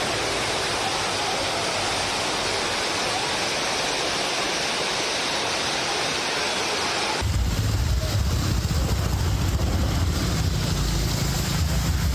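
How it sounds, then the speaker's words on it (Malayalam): Heavy rain and floodwater in Adimali, Idukki, form a dense, steady roar that fills the clip without pause, then shift partway through to a rougher, lower rumble of rushing water. "ഇടുക്കി അടിമാലിയിൽ കനത്ത മഴ, പലയിടത്തും വെള്ളക്കെട്ട് രൂക്ഷം"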